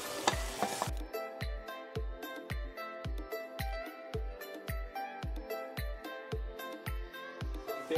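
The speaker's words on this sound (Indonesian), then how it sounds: "kita goreng juga si dagingnya" Meat marinated with kimchi seasoning frying in a pan for a Korean soft tofu stew, a steady sizzle broken by regular stirring scrapes about twice a second, close and alone.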